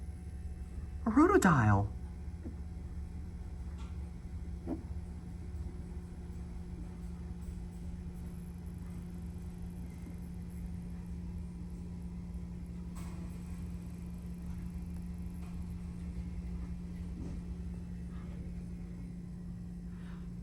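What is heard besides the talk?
vintage Westinghouse traction elevator motor running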